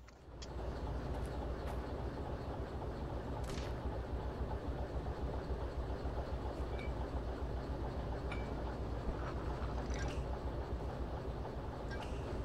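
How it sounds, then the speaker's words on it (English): A train in the video game Derail Valley rumbles continuously with a loud, steady low drone, and a few sharp metallic clanks and knocks stand out over the running noise. "Please tell me I heard that train."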